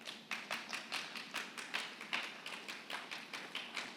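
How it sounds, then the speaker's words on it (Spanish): A church congregation claps for about four seconds, producing a steady, fairly quiet run of distinct hand claps in an even rhythm, like a small group clapping together in a worship service. "Dale un aplauso al Señor."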